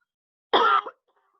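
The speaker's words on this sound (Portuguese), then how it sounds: "pausa para tosse" A single short, sharp cough close to the microphone, with a tiny trailing catch, surrounded by silence.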